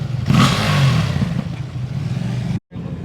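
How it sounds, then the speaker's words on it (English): At a Coffee and Cars meet, an engine from John Hennessey's collection revs loudly and close for a few seconds with a steady throaty roar, then cuts off abruptly before another engine sound resumes. "Rev it."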